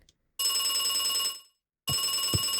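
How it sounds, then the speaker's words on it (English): A telephone in the video game Beacon Pines rings loudly in two bursts, a long trill followed by a pause and then a second ring starting, with no talking. "Thank you, phone that pierces the quiet."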